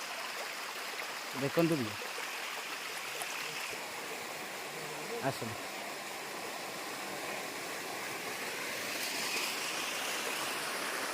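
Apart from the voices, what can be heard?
stream water flowing over stones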